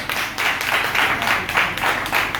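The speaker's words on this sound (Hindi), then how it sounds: "तो एक बार उनके लिए भी तालियां बजाइए।" A Teachers' Day audience claps in a dense, continuous burst of applause filling the room, fairly loud and uninterrupted throughout.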